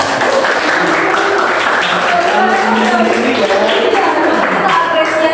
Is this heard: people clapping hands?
yes